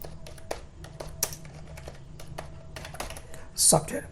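Keys tapped on a computer keyboard while typing a list in MS Word 2007, with irregular close clicks, a brief louder burst near the end and a faint hum beneath.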